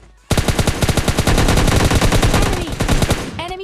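A rapid automatic gunfire burst from the video game PUBG Lite, loud and close, about twenty fast sharp shots in a continuous rattling stream lasting three seconds.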